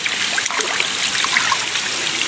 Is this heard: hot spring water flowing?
yes